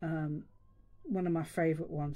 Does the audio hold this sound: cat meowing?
yes